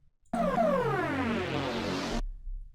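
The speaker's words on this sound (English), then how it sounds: "Then the last pattern is this synth growl slash fill" A synth growl fill effect preset plays as one sustained, gritty, wobbling tone lasting about two seconds, with pitch sweeping movement throughout before stopping abruptly, heard alone.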